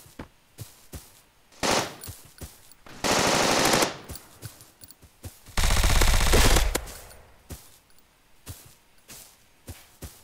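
Suppressed guns fire in a browser shooter game, muffled shots in quick irregular bursts with a few longer sustained rattles between isolated pops, loud against a quiet background.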